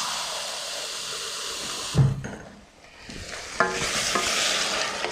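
Water poured into a hot pan of frying beef kefta tagine base, a sharp burst of sizzle and hissing steam that briefly dips then surges back to a steady loud bubbling fry, with no voices.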